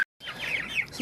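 Young 16-day-old chickens chirp in a brief burst of high, warbling peeps close by, following a short moment of silence.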